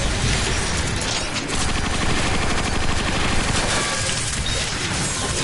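Sustained, loud video-game gunfire, machine-gun bursts and shots overlapping continuously with a busy mechanical clatter underneath, no pauses and no voices.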